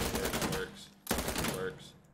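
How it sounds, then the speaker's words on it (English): Bursts of automatic rifle gunfire in the video game Insurgency Sandstorm, two rapid volleys close together, loud and sharp, with no talk. "let's try with firing, the left click"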